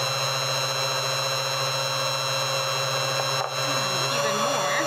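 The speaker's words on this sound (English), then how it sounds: "Now you can hear by my mixer that it's gotten much thicker" A Steady, loud electric mixer whirring through thickening lip serum at raised speed, holding a constant buzzing drone with a brief dip near the end as the pitch shifts slightly.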